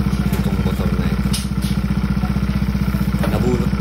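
A Yamaha NMAX V2 scooter engine runs with a broken injector, giving a loud, steady rapid pulsing with irregular clattering misfire thumps throughout, close to the engine and no talking.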